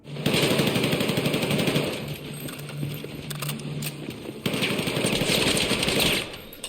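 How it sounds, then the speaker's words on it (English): Sustained automatic gunfire from Carter's gun during a Battlefield 6 cutscene, loud and continuous across the whole stretch, with a brief dip in the middle before the dense rattling picks up again. "Carter just wouldn't stop shooting his gun, so I couldn't hear the president"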